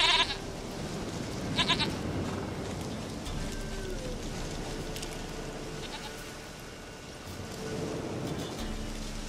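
Goat bleating in The Witcher 3, a few short bleats standing out near the start over a steady wash of rain-like ambient game noise, fairly close and moderately loud.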